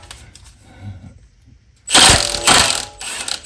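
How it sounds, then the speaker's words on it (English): A ratchet wrench loosens a 17 millimeter nut on a GR Corolla suspension link, a loud close burst of rapid ratcheting clicks in two strokes after a quiet pause. "I'm going to go ahead and get this 17 millimeter bolt or nut off here"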